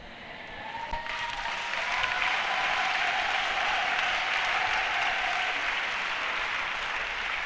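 A church congregation breaks into sustained applause, a dense, even roar of many clapping hands that builds within the first second and holds steady throughout, with no clear speech.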